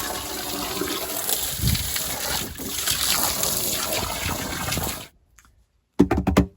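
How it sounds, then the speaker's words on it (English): Water gushes steadily into a tub on a farm with a rushing, splashing texture for about five seconds, then stops, followed by a brief bubbling burst. "Let's fill. Water goes in."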